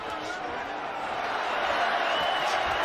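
Boxing arena crowd at the Canelo Alvarez vs Alfonso Gomez fight, a sustained roar of cheering voices under a commentator's talk.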